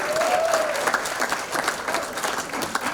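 Applause from a comedy club audience at a Thursday night gong show, dense clapping that goes on for the whole stretch, strong and close, with cheers mixed in and no speech over it.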